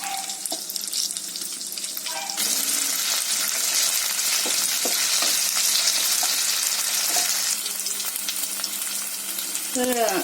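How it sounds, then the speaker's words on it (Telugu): Chicken for fried rice fries in a pan with a loud, steady sizzle that swells partway through, broken by scattered clinks and scrapes of stirring; no voices. "దీన్ని ఫ్రై చేసుకుందాం. ఇందులో ఆల్రెడీ సాల్ట్ అండ్ పెప్పర్ అన్నీ వేసుకున్నాం కదా"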